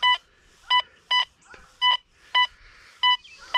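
Short, bright electronic beeps from an XP Deus 2 metal detector target signal repeat at a steady pulse, seven tones in a row, with faint rustling between them.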